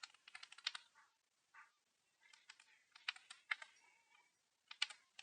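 Typing on a computer keyboard: quick bursts of crisp key clicks with short pauses between words, close and quiet, with no talking.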